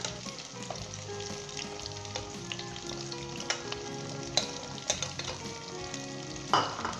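Ginger garlic paste sizzles in a pan for a Kashmiri mutton and potato curry while a spoon stirs it, the frying steady and fairly soft with several sharp scraping knocks.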